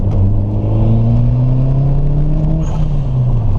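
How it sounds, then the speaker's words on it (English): A 1995 Eagle Talon TSI with an HKS SSQV blow-off valve revs loud and close, engine pitch climbing steadily, then a brief turbo whistle and valve hiss near the end as the revs drop. "HKS SSQV blow-off valve, which you guys will probably hear quite a bit."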